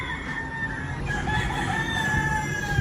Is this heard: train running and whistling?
no